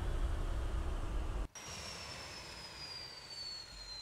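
Jet aircraft engine in the combat game Arma 2, a steady roar that cuts off abruptly and gives way to a thinner, high whine that slowly falls in pitch as it winds down.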